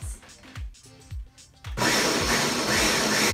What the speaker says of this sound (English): my blender's getting a little bit full again, so I'm just gonna go ahead and pulse a few more times.